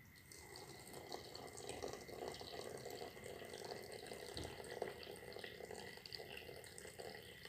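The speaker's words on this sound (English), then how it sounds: "we're just going to slowly add our hot water" Hot water poured slowly into green tea, a steady soft trickle and splash running continuously at close range with no talking.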